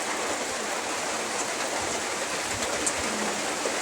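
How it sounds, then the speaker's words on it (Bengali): Rain falling with wind, a steady broadband hiss close by with scattered drips, continuous and moderately loud with no talking. "আমি দেখাচ্ছি যে কীরকম বৃষ্টি হচ্ছে।"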